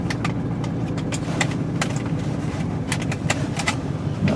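A 2000 Ford F-150 XL extended cab pickup with a 4-speed automatic transmission runs as it sets off on a drive, a steady mid-pitched engine hum with light clicks and rattles inside the cab, no speech.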